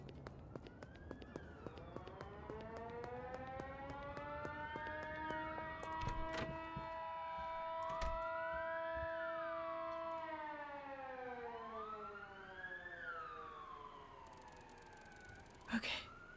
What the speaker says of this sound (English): I heard the sirens and I got really scared.